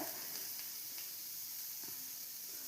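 Chopped coriander sizzling in a pan while making stuffing for cauliflower paratha, a quiet steady frying hiss with faint stirring touches and no talk.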